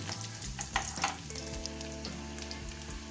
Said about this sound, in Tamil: இப்போ சோம்பு பொறிஞ்சிருச்சு பூண்டு போட்டுக்கலாம் அடுத்து இஞ்சியும் போட்டுக்கலாம்